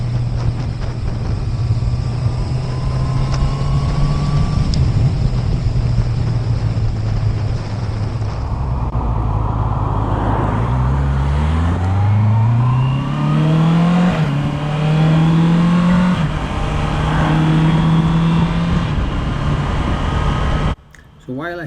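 A Honda CB650R motorcycle engine riding along a twisty country road, loud and close with steady droning and rising revs as it accelerates through gears, then cutting off abruptly near the end.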